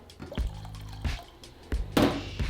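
Small splashes of water pour into a teriyaki sauce mixture in a kitchen, three or four short liquid bursts and drips close by, with no talk.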